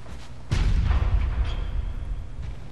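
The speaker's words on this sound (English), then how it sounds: "You were the one firing the cannon." Cannon fire in Bloodborne: one heavy low boom bursts in abruptly and rolls on as a sustained rumbling blast, close and loud, with no talking.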